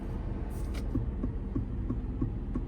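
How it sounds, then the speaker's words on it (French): Soft, regular ticking repeats at an even pace, an Aston Martin DBX 707's turn signal clicking inside a quiet cabin over a low hum. "Si vous entendez le bruit du clignotant,"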